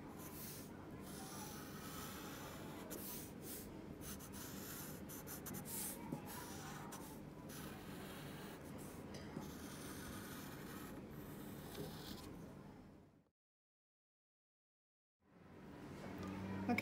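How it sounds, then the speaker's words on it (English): Pencil tracing over tracing paper laid on a cardboard board, a steady close scratchy rubbing that carries on for about 13 seconds and then cuts to silence before faintly resuming. "And we're going to trace over it."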